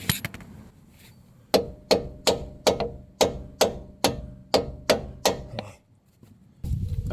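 Hammer blows strike a bolt while it is driven into a car's lower ball joint: about a dozen sharp, evenly spaced metallic smacks in a steady rhythm, close and loud, then a brief pause.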